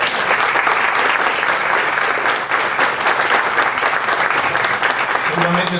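An audience at a book presentation claps loudly and continuously, a thick, even roar of hands filling the room throughout, with a voice faintly surfacing at the very end.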